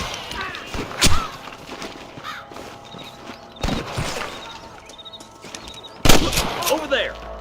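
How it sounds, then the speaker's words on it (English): Several sharp gunshots in Red Dead Redemption ring out at irregular intervals, loud and close, with rustling movement and faint background activity between them. "I can hear more gunshots."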